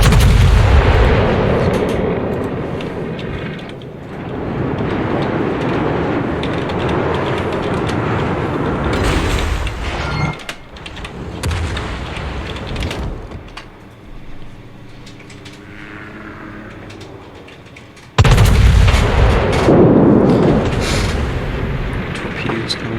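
Battleship main guns fire in a World of Warships naval battle, with heavy booming salvos and rolling rumble, a loud blast near the end, under brief game voice callouts.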